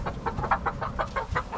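A large white backyard chicken clucks close by in a quick rhythmic run of about nine short clucks, fairly loud and alone.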